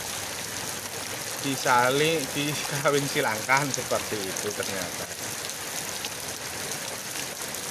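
Rain falls outdoors as a steady, close hiss that runs through the whole stretch, while someone talks over it for a few seconds in the middle.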